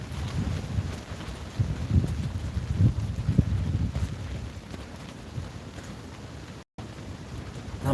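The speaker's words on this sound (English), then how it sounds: "How much wind we got." Gusty wind from a severe storm buffets the microphone in low, uneven rumbles that rise and fall steadily throughout, with no voices.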